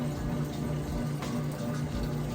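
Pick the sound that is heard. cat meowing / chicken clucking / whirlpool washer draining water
whirlpool washer draining water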